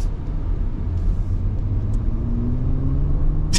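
A 600-horsepower Bentley Bentayga luxury SUV pulls hard along a road in sport mode, its engine a steady, deep cabin rumble that climbs gradually in pitch with no talking over it.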